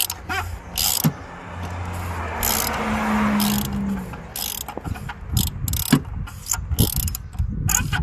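Ratchet clicks while tightening during an engine oil and filter change on a 2020 Chrysler Pacifica: bursts of close, sharp ratcheting strokes with brief mechanical rattles and pauses between.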